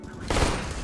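Burst of rapid gunfire in a CS:GO match, a dense rattling volley that breaks in partway through and holds loud for the rest of the short moment.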